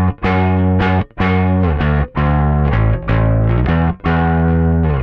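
An electric bass played hard through an overdriven, saturated rig: loud, sustained gritty low notes in a steady run, each attack a little clipped, with short gaps between phrases.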